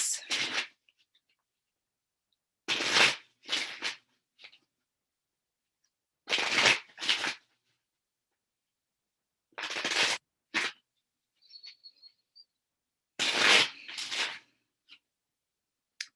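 Tarot cards are shuffled in repeated short bursts, riffling and snapping close up, with quiet pauses between each round.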